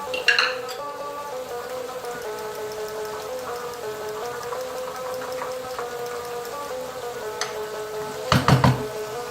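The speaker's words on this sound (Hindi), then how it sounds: "ये मैंने लिए हैं 5 अदद अंडे, अब मैं इनको फेंट रही हूँ।" Five eggs are beaten in a bowl with a spoonful of green onion, giving a steady, close run of rapid metallic clinks and taps that ends in a short louder clatter. No one speaks.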